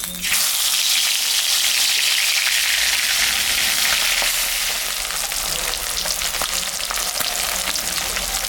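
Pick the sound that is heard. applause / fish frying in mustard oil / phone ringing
fish frying in mustard oil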